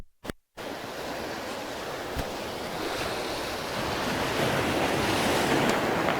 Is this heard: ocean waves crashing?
yes